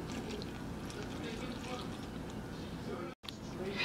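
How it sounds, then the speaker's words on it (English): Water poured from a measuring cup into a bowl of cake batter for a checkerboard cake, a steady close trickle and splash with a brief break near the end. "the recipe states that I need to add 1 cup of water"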